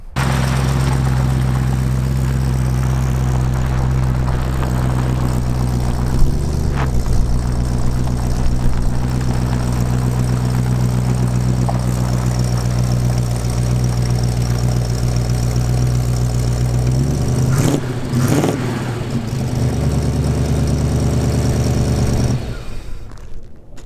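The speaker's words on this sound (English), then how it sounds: "we'll be starting up hot rods and lining them up in front of my store" Hot rod engine idling loudly and steadily close by, a deep continuous rumble with a brief rev midway and another surge near the end before cutting off.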